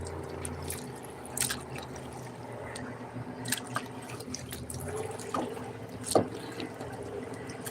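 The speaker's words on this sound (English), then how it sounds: "And these waves are coming from every direction now." Lake water on Seeley Lake laps and splashes irregularly against a kayak hull, close and moderate in volume, with scattered drips and sloshes over a steady wind-like background.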